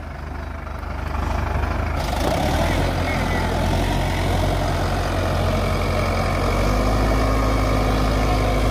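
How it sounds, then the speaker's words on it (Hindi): A Sonalika Tiger 55 DI shuttle-gear tractor engine runs steadily at a field demo with harrow and tiller, a loud continuous low diesel drone with no letup. "डेमो था इसका ट्रैक्टर का आज, तो हैरो और टीलर दोनों पे दिखाया इसका डेमो"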